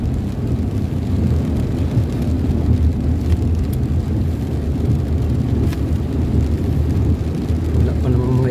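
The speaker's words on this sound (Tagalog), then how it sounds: "Ayan, kasalukuyang umuulan pa rin." Rain falls during a night drive on a bypass road, heard as a steady dense rumble and hiss of wet tires and rain around a moving vehicle, loud and unbroken throughout.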